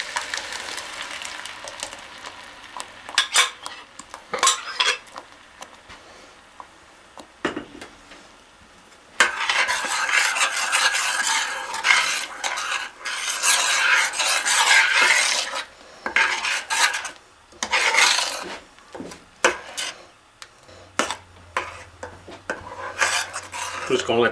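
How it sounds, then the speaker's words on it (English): Mole verde sauce poured into a pan greased with manteca and stirred, giving repeated scraping and clinking of a utensil against the pan with a faint sizzle, loud bursts separated by short pauses and no talking. "Now we're going to add our sauce to the pan."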